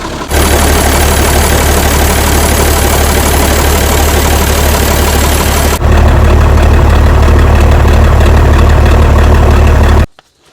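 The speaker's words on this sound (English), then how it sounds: "It was just idling away there perfect." The Perkins diesel engine of a 50-year-old International 6x6 army truck idles steadily and loud, a low rumbling drone with a slight shift partway through, then cuts out abruptly near the end.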